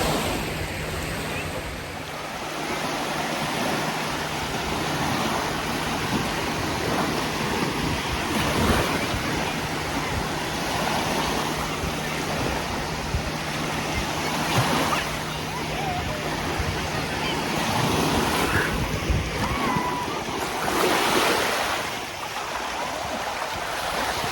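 Sea waves wash onto a sandy beach at Main Beach, Port Stanley, a continuous loud surf roar with periodic swells and gusty wind buffeting the microphone, while a person speaks faintly underneath.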